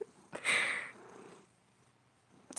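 A pet cat named Mouse purring softly, a faint close rumble that swells briefly and then fades.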